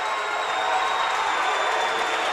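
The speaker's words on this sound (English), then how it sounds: "And the John Glenn crowd is going wild." Loud, roaring high school playoff basketball crowd cheering after a steal and foul, a dense sustained wash of voices and noise through the whole moment.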